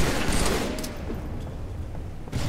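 Rapid bursts of gunfire from a video game shootout keep up a dense, loud, continuous crackle with a brief pause near the end before shots resume.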